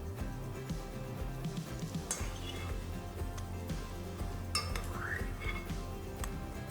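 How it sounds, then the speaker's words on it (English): Cream, marshmallow and sweets stirred together in a bowl for a kids' Eton mess give soft, scattered spoon clinks and scrapes against the dish over a busy, noisy background. "So this is basically the cream, marshmallow, and all the goodies that we picked out of there, mixed into that."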